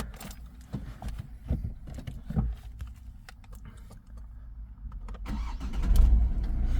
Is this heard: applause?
no